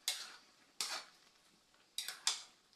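A spoon stirring egg curry with coconut milk in a pot, four sharp metallic scrapes and clinks spaced apart, close and fairly quiet with no talking.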